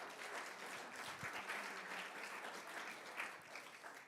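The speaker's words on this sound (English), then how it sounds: "you all owe yourselves a round of applause for your support" Steady applause from the audience at a public lecture, a continuous patter of many hands heard from a distance, fairly quiet and even for about four seconds.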